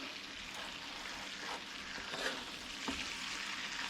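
Homemade Swedish meatballs fry in a pan with a steady, quiet sizzle and soft crackle, with a couple of faint pops and no talking.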